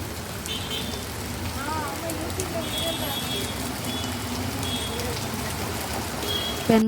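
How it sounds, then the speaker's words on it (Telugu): Rain falling steadily on a street in Malleswaram, Bangalore, a dense continuous hiss heard up close, with faint background voices and occasional distant traffic beneath it. "వర్షం ఏమో పడిపోతుంది, ఏమీ షాపింగ్ చేయలేదు."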